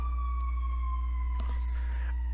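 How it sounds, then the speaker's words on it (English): A siren wails steadily in the background, fairly faint and distant, holding a sustained tone as it passes by. "I'm going to let this siren go through."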